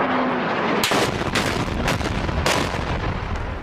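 Shelling and gunfire in besieged Daraya, a Damascus suburb in Syria: loud, close sharp shots and heavy booms, several bursts over a continuous rumbling din, no voices.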